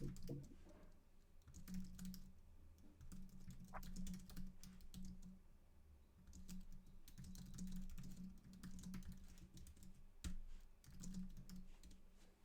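Steady keyboard typing in rapid bursts with short pauses, soft clicks continuing over a low background hum.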